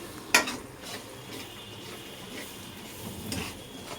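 Spice paste for chickpea curry frying and being stirred in a pan, a soft sizzle with a sharp utensil scrape near the start and occasional light stirring clatters, close but fairly quiet.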